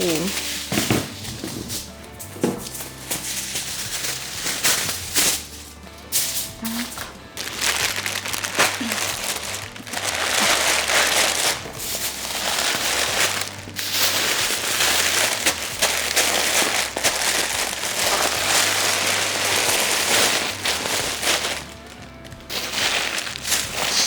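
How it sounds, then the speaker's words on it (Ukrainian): Aluminium foil crumpled and wrapped tightly around a wild boar leg in a kitchen, giving loud, close crinkling and crackling that runs nearly continuously with brief speech. "Тепер ми беремо фольгу"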